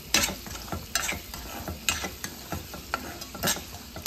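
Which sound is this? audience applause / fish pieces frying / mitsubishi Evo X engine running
fish pieces frying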